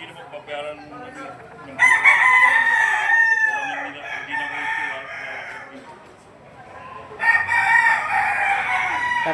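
A rooster crows in long calls with clucking between them, carried as a live bird on a bus ride, loud and close, with some background voices.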